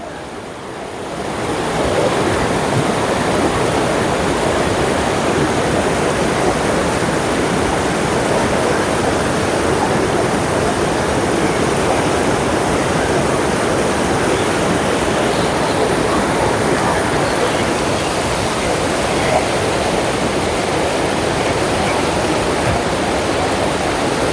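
Swollen Sarabanga river floodwater rushing toward Vellalapuram lake near Edappadi makes a loud, unbroken roar. It builds over the first two seconds, then holds a constant close-up wash throughout with no voices.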